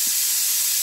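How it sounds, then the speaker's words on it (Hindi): A small pressure cooker whistles while rice cooks in a home kitchen, a steady high-pitched steam hiss running through the whole short moment with no talk. "छोटे कुकर की तो सीटी भी आने लगी"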